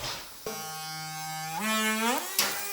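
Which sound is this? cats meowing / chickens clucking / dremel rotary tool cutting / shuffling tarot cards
dremel rotary tool cutting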